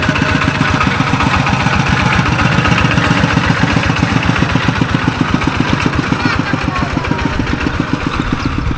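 A Kubota tractor engine runs steadily in a rural village in the evening, a loud, close, rapid diesel chugging with regular low pulses throughout, no talk.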